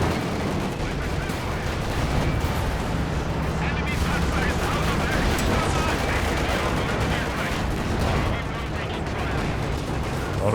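Battle sounds from Company of Heroes 2, with StuG and KV tank cannons firing amid dense gunfire and explosions, a loud, continuous barrage over the whole stretch.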